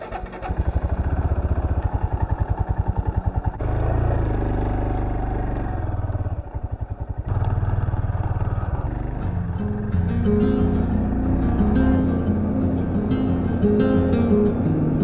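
Dirt bike riding a high country track, the engine loud and close with choppy revving, brief throttle drops, gear changes and clattering over rough ground throughout.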